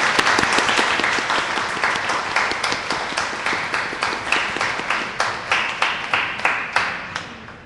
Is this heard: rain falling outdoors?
no